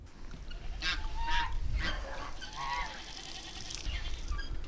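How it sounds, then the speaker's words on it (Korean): Geese, ducks and chickens flock together on a village street near a pig farm in Ussuriysk, giving repeated honks and quacks over steady outdoor background noise, with no talking. "거리에서 닭과 오리떼를 만났습니다"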